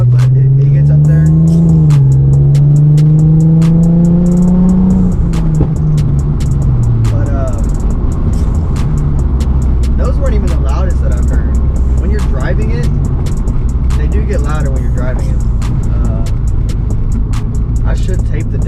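A car fitted with an MForce flame tune revs hard: the engine note climbs and then drops back, followed by a steady idle. Loud, sharp exhaust pops and crackles fire repeatedly throughout.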